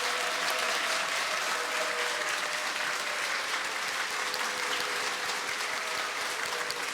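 A large audience at a university president's farewell ceremony gives sustained, even applause, a dense roar of many hands clapping at once with no break.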